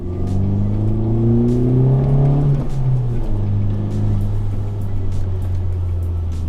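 A Honda Civic Type R drives on cold, wet winter roads. Its engine note climbs through a rev and dips at a gear change, then settles into a steady, loud drone with road noise underneath.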